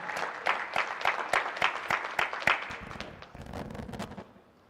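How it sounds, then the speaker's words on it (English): A conference audience at the 10th Annual NAAHP Conference claps for the MC in a burst of applause that peaks early, then thins and fades toward the end, with no speech over it. "Let's give him a round of applause."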